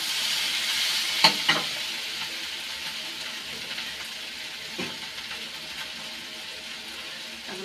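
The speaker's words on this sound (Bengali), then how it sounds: "ভাজা হয়ে গেছে, ভালো করে কষিয়ে নিয়েছি।" Gourd and onion frying in a pan with turmeric and salt, a steady soft sizzle throughout, with a couple of sharp scraping stirs near the start and another around the middle.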